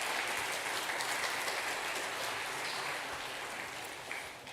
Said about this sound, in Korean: 우리 환송의 박수 드리겠습니다